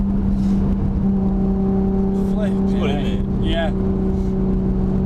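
Nissan Skyline GTR R33 engine with a big turbo humming steadily up close, with faint rising whistles of turbo spool, while people talk excitedly over it.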